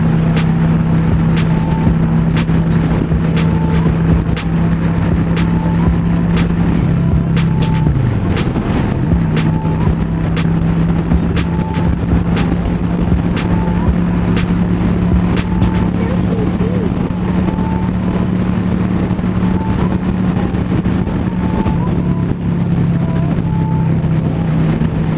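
A motorcycle cruises through Florida road traffic, its engine droning loudly and continuously with a steady tone and one brief dip, wrapped in heavy wind rush throughout.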